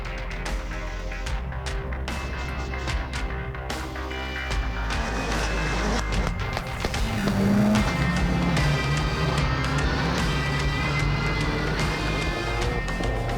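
A Dacia Logan rallycross race car, home-built, competing in the 2018 French Rallycross round at Lessay, its engine droning and revving steadily with gear-change spikes and crowd-side track noise, no voices.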